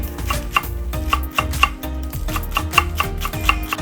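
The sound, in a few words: knife thinly slicing scallions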